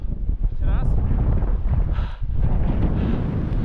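Strong, gusting wind on an exposed mountain ridge at Kráľova hoľa, roaring and buffeting the microphone continuously and loudly, with someone speaking under it.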